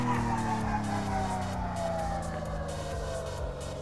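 A car engine in Car Mechanic Simulator 2014 revving high and steady, a sustained close whine that slowly drops in pitch over a few seconds, with no talk over it.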